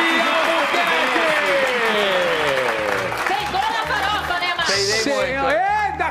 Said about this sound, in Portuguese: Uma salva de palmas para Gui Albuquerque!